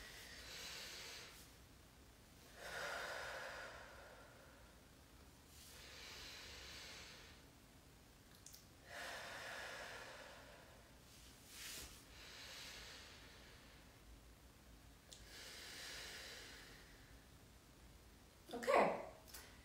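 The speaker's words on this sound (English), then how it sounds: "So I'm gonna do 3 inhales and exhales just to relax my body" Slow, deep yoga breaths in and out through the mouth while seated cross-legged, several soft airy rushes repeating about every three seconds, close to the mic, with a sharper louder exhale at the end.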